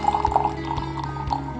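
Oolong tea being poured out of a teapot, a steady splashing stream of liquid into a vessel lasting under two seconds, with faint ringing tones of glass or ceramic.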